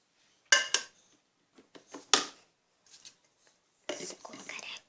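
A toy cooking pan in a children's play kitchen is handled close by, giving a few sharp clatters and knocks, then softer scrapes and a longer rattling stretch near the end.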